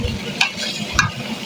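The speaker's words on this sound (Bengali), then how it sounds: "বাগারের জন্য পেঁয়াজ কুচি আর রসুন কুচি দিয়ে দিলাম।" Chopped onion and garlic frying in oil for a bagar tempering, a dense steady sizzle with two quick stirring scrapes, loud and close, no talking.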